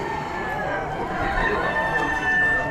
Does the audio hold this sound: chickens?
yes